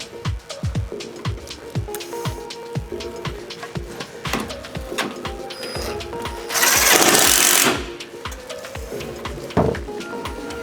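Power driver with an 8mm socket running in the final nuts on a Cybertruck RGBW light bar install, a rapid rattling impact sound repeated through the clip, with a brief louder burst partway.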